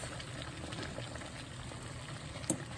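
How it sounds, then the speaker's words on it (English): A pot of water at a rolling boil on the stove for cooking eggs, a steady close bubbling and churning with one small louder pop near the end. "Okay, so I get the water boiling,"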